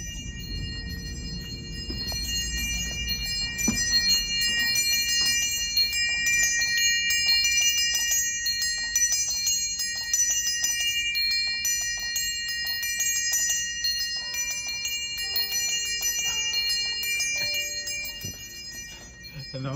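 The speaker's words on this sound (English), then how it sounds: "And that is the Zimbelstern." A Zimbelstern's small tuned organ bells tinkle continuously in a bright, shimmering cascade, a sustained high ringing pattern repeating for many seconds.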